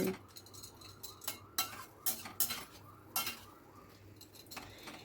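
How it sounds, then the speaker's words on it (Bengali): Spoon scraping and clinking against a pan as chicken curry masala with yogurt is stirred, in irregular metallic knocks over a low simmer, close and without speech. "মিনিটখানেক ভালো করে নাড়াচাড়া করে মশলাটাকে ভালো করে কষিয়ে নিয়েছি"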